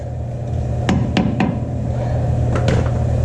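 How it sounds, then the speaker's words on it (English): Metal hammer blows pound an old bushing out of a Ford F350 front end, three quick sharp strikes followed by two more a moment later over a steady low background hum. "pound out the old bushing"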